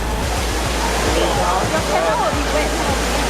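A waterfall roars as a steady, dense wash of rushing water that fills the whole clip, with faint voices murmuring underneath.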